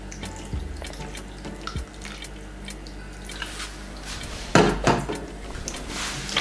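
Water trickles from a tap into a sink, with a few splashes and a louder gush partway through; no talking.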